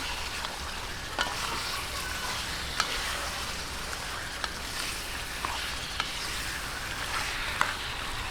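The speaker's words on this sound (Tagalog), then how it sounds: "At itong ating tomato paste. Ayan, haluin po ulit natin." Tomato paste is stirred into chicken guisantes in a pan: a steady, close sizzle of frying runs throughout, dotted with a few soft clicks from the utensil, and no voices.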